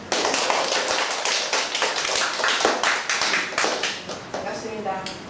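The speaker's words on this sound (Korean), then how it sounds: "우리 총장님을 큰 박수로 소개" Applause from a seminar audience welcoming a university president to the stage before a lecture, a dense wash of many hands clapping steadily and fairly loud for several seconds before easing off near the end.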